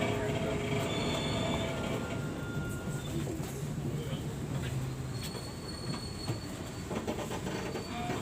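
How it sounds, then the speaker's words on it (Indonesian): Matarmaja passenger train pulling into Jatinegara station, a low steady rumble of rolling railcars with faint wheel squeal and clicks heard from aboard, continuous and moderately quiet throughout. "Kereta api tiba di stasiun Jatinegara tepat waktu"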